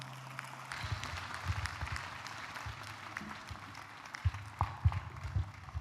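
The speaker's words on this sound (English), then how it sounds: "I think we can give him a better round of applause" A graduation ceremony crowd at Cavendish University Uganda breaks into a steady round of applause for the commencement speaker, the clapping swelling after a brief pause and staying fairly distant over a low hum.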